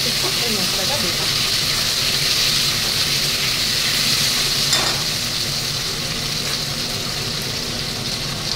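Spices frying in a pan for a home-cooked dish, a steady sizzling hiss running throughout with occasional stirring scrapes, close and continuous; no one talks over it.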